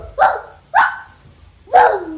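A boy imitates a dog's bark, giving three short, loud, close woofs about half a second apart, then a brief pause before the third.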